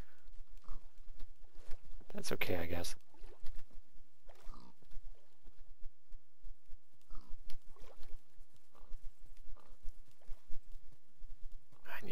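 Pigs grunting and oinking in the Minecraft video game, a brief loud burst early on followed by fainter snorts, heard beneath a person's ongoing talk.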